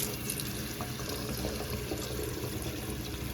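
Water runs steadily into a stainless steel kitchen sink strainer basket, a continuous splashing hiss with no voices, moderately close and even throughout.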